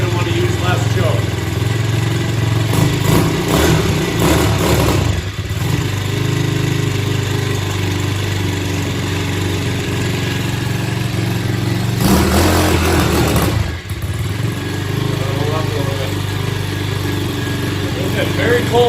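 A SYXMoto VK 58cc kids dirt bike engine runs steadily on a cold day, its choke on as it warms up, with a constant rattling drone and someone talking over it throughout.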